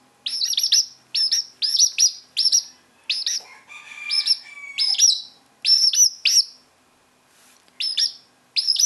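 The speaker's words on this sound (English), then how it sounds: "This is one of my little chicks." Poultry chick giving high, rapid peeping chirps in short repeated bursts, close and clear against a quiet background.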